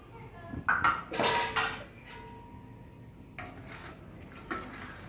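A spoon stirs and scrapes pickle spices, cloves, pepper and turmeric, in a pot for a whole-mango pickle, giving close metallic clinks and scraping strokes in short bursts while a person talks.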